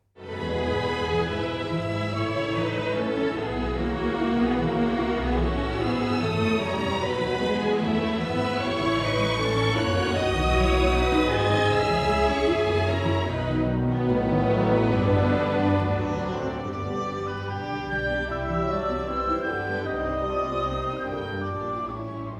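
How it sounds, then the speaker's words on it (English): A flowing orchestral melody from Brahms's Academic Festival Overture sung out by violins, later passed to a solo oboe over a softer accompanying orchestra, full and sustained. "Here you can hear it in the overture, first played by the violins and later by the oboe."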